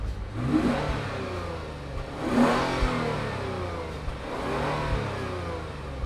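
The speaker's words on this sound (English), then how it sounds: "The exhaust system on it, you know, you'd like to hope it would be loud and growly" A 2021 Lexus IS350 F Sport engine revs up three times in short bursts, each rise fading back down, the exhaust note muted and restrained rather than loud.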